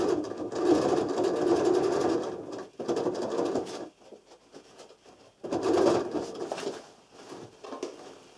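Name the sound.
sewing machine stitching travel bag edge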